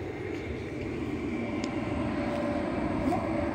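An Airbus A319 at Fort Lauderdale-Hollywood International Airport near runway 10R produces a steady, distant jet engine roar that holds evenly with a faint whine on top, heard outdoors with no one talking.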